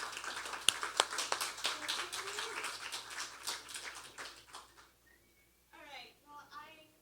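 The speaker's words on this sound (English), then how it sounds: "if you could start clapping for Jamie Parker" An audience claps for a performer at a military poetry night, a dense round of applause under a host's voice that thins out and fades, followed by brief talk.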